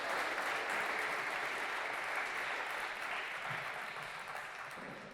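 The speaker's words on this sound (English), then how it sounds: "Round of applause for the 6 athletes" An audience at a high school athletics signing day at Byram Hills applauds six athletes, a steady, full-bodied round of clapping that holds evenly, then tapers slightly toward the end, with no speech over it.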